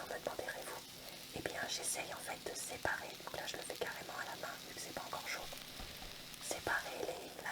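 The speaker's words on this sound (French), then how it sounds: "je me lance dans la cuisson, la pré-cuisson donc des oignons parce que c'est bien meilleur" Sliced onions pre-cooking in a pan give a soft, continuous sizzle and crackle, heard up close but quietly, with a whispering voice over the top and occasional stirring clicks.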